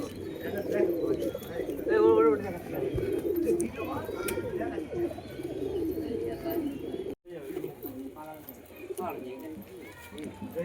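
Madras pigeons coo in soft, repeated, throaty bursts close by, mixed with faint wing and scuffling sounds while someone talks over them.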